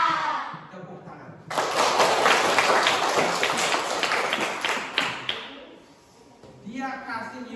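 A classroom of students bursts into applause at a teacher's prompt during a lesson, dense clapping running for several seconds before tapering off, with talk resuming afterward.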